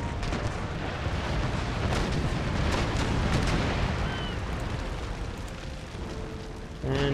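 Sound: rocket ship firing in video game Empire: Total War

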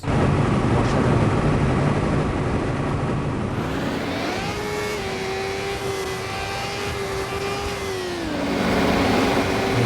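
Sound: Kawasaki Ninja motorcycle engine in a video game

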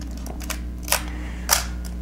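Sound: lens bayonet twisted into Nikon F2 camera mount

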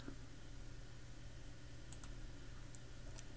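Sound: computer mouse clicking

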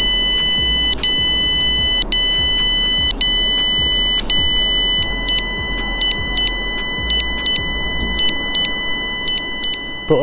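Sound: JBL Tune 230NC earbuds find-my-buds beep sound

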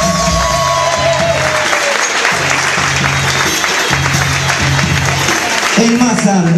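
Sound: audience applause for musicians on stage

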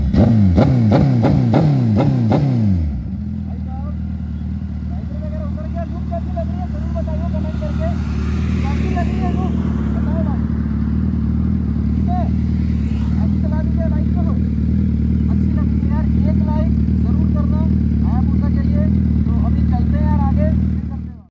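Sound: Suzuki Hayabusa motorcycle engine revving with throttle

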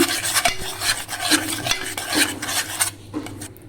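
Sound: curd being stirred into mushroom curry in a pan

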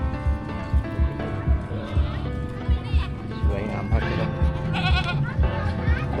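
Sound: goats bleating at a farm

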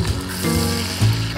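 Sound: pork chops sizzling in oil and butter

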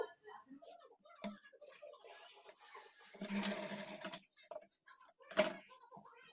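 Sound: sewing machine stitching kurti lining

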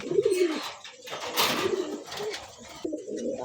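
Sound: female pigeon cooing

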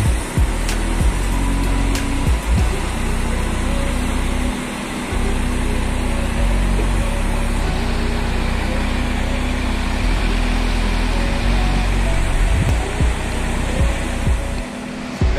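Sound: Volvo B11R bus engine, 430 horsepower

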